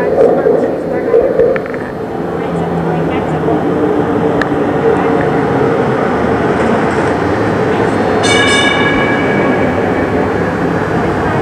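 Steel car of a Pittsburgh incline railway rising up the hillside, giving a continuous mechanical rumble and whir at steady loudness, with a short squeal or screech partway through.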